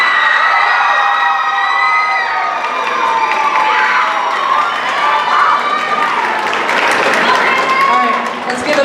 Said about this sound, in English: Can we give a round of applause for K-Pro and Hayden Allison?